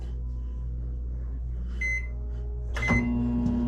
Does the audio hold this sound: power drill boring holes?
no